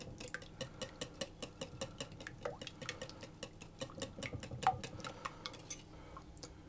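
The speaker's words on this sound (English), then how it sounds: "I'll whisk these until the eggs and the milk are fully combined" Eggs and milk whisked briskly in a bowl, a steady run of quick, close metallic ticks against the sides, fairly quiet, with no talking.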